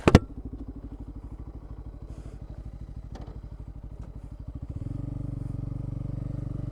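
A Bajaj Pulsar N250 motorcycle engine and raspy exhaust thrum steadily while riding, a close, rhythmic low pulsing that swells into a thicker, louder drone near the end as the engine picks up.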